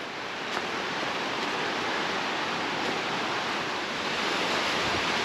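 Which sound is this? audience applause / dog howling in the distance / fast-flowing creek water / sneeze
fast-flowing creek water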